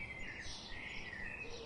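A bird, apparently an Asian fairy bluebird from the Andamans, gives faint high chirping and warbling calls over a low background hiss, brief and somewhat distant.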